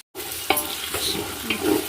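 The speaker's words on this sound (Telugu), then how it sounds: "చూడండి మసాలా మంచిగా ఫ్రై అవుతుంది" Masala with ginger-shallot paste frying in a pan for chicken biryani, a loud continuous close sizzle with a few clinks of a spoon stirring.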